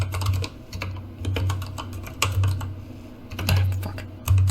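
Rapid typing on a computer keyboard, close and busy, with irregular bursts of clacking keys over a steady low hum.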